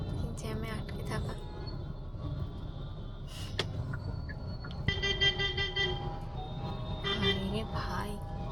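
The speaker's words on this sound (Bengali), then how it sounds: "আরে ভাই, এত যে হর্ন দেয় কেন?" Car horns honk repeatedly in a traffic jam at Yeshwanthpur Junction in Bengaluru, short toots rising over a steady road rumble with engines and a passing metro, voices talking throughout.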